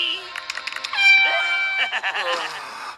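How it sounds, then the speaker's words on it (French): A loud, sustained horn blast sounds after a few short clicks, then trails into muffled voices and clatter. "Pourquoi tu utilises encore un klaxon?"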